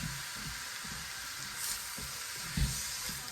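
Saltfish and mixed vegetables frying in a pan, a steady close sizzle with soft stirring scrapes and a couple of louder bumps near the end.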